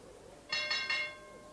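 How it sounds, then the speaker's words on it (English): A wrestling ring gong at a 1983 New Zealand tag-team match strikes three quick times, each ringing tone bright and close, then decaying into faint arena hum with no talk. "as that gong went"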